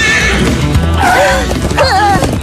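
A loud, close horse neigh in The Loud House cartoon rises and trails off in a couple of whinnying bursts over a dense background of other sound.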